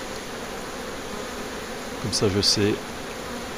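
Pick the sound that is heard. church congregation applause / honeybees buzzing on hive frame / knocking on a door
honeybees buzzing on hive frame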